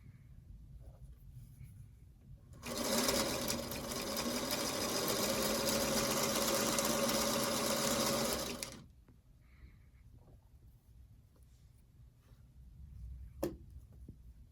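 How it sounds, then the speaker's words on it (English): A sewing machine stitches the seams of a fabric quilt block in one continuous whirring run of about six seconds. It is close and clear, with quiet handling sounds before and after and no talking. "let me just sew one of each so I can show you what that looks like"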